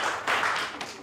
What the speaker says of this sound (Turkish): Alkışlıyoruz arkadaşımızı.